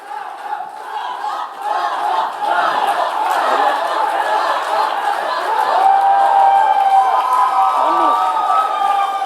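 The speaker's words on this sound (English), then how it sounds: "I would like you to hold your applause for a minute." A large audience at a formal ceremony cheers and applauds in a sustained, loud crowd roar with excited voices mixed in, holding steady for the whole stretch.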